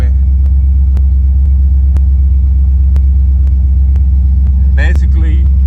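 A Buick Regal engine with Holley EFI idles after a cold start at a fast idle around 950 RPM, a loud, steady low rumble with an even pulse throughout and a brief higher scrape near the end.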